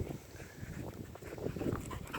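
A dog pants close by during a bike ride, quick rhythmic breaths with a few faint whimpers over steady outdoor rumble.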